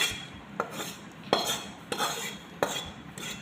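A metal spoon scrapes soft Gujarati sukhdi out of a pan onto a plate, giving four sharp clinks and scrapes at a slow, uneven rhythm, close by and with no talking.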